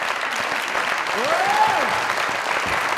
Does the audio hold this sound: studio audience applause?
yes